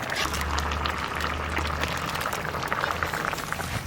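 Papaya and jatha fish curry is poured into hot oil tempered with bay leaf and cumin in a village kitchen, giving a loud, bubbling, boiling hiss that carries on steadily throughout.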